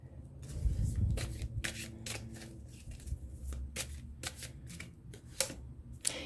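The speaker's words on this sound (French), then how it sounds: "je vais juste replacer les cartes" Playing cards shuffled by hand at close range, soft and quiet, in repeated quick riffling bursts spaced through the clip, with no voice over them.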